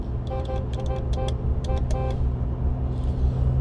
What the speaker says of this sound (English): Horn sounds good.